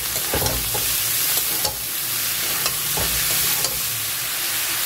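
Fried potatoes and boiled banana flower go into a hot pan, giving a steady close sizzle with a few stirring scrapes and clinks throughout.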